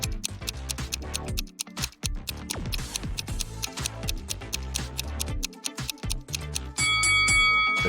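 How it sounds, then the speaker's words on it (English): An alarm clock ticks in quick, crisp clicks amid busy, music-like sounds, then breaks into a bright, sustained ringing at the very end. "The correct answer is an alarm clock."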